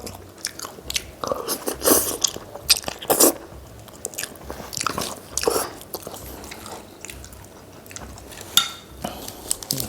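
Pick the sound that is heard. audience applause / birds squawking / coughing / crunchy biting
crunchy biting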